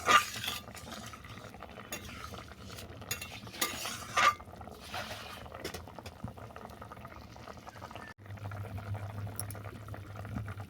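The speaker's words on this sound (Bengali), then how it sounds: "ঝোল ভালোভাবে ফুটে যাওয়ার পর সেদ্ধ করা ডিমগুলো দিয়ে দিলাম আরও কিছুক্ষণ ফুটিয়ে নেবো" Egg curry with boiled eggs bubbles steadily in a pot, with a few clinks and scrapes of a utensil against the pot early on, then continuous soft simmering on its own.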